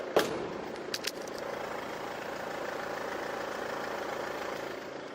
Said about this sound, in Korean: 이 정도의 엔진 소음을 만나보실 수 있는 차량입니다